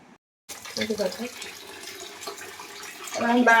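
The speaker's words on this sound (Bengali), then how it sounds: "এই যে চিকেন ধুলাম, চিকেন ধোয়া শুরু করলাম" Tap water runs steadily in a home kitchen sink while raw chicken is rinsed, a close continuous splashing wash that swells louder near the end, with a voice speaking over it.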